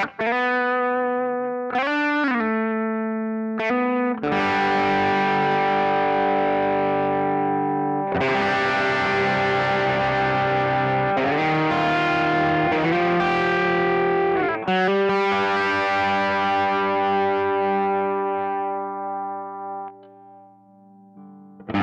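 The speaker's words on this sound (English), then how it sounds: "Let's hear me just playing through a few chords and letting you hear the different sounds in the four positions and different levels of gain as well." A Fender Custom Shop Telecaster electric guitar, NOS Masterbuilt, strums a series of sustained chords with gain and effects, each ringing out and decaying before the next, loud and alone with no voice.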